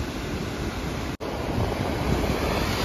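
An overflowing waterfall near Elappara in the hills of Kerala rushes with a steady, broad roar, continuous and fairly distant, broken only by a brief dropout partway through; nobody speaks.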